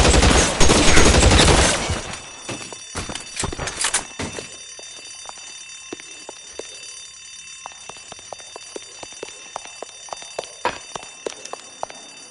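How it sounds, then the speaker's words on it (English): Suppression gunfire in the LA Noire video game: a loud, dense burst of rapid shots for about two seconds, followed by scattered single gunshots and sharp cracks that thin out and grow fainter over the rest of the clip. "I'll lay down some suppression fire."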